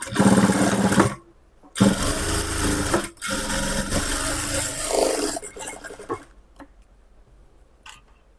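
A sewing machine runs in several loud bursts of rapid stitching while a second seam is sewn a quarter inch from the first on a lining blouse, with short silent pauses between runs and a final faint click.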